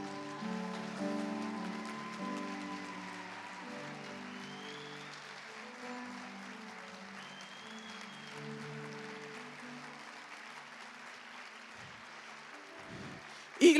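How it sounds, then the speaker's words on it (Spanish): Sustained applause from a large church congregation, steady and moderately loud throughout, mixed with a lingering sustained musical tone and a brief thump at the end. "30 segundos de aplausos"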